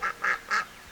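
A duck quacks three times in quick succession, close and clear, outdoors in the rain by compost piles, no speech.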